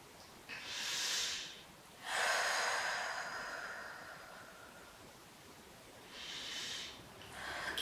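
Heavy, audible breaths after a yoga vinyasa stretch, several long airy exhales and inhales with quiet gaps between them, close and fairly faint, with no talking.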